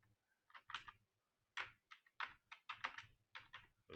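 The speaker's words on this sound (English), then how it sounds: "So this is the command I'll be typing now" Someone types a docker login command on a computer keyboard, a run of close, crisp key clicks in uneven bursts with short pauses between groups, quiet and without voices.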